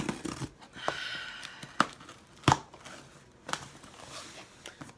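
Scissors cutting open a clothing subscription box, with intermittent tearing, crinkling and sharp snipping sounds at close range, fairly quiet and uneven in rhythm.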